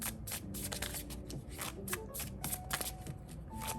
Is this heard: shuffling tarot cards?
yes